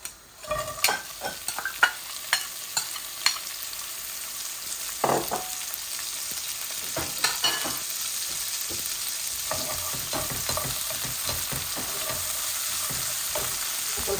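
Chicken and vegetables frying in a little oil for fried rice, a steady close sizzle broken by frequent sharp scrapes and clinks of a spatula against the pan, with no talk.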